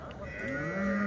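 A cow lows at a weekly Sunday cattle market in Chintamani, one sustained moo lasting about a second, loud and close against a busy crowd background.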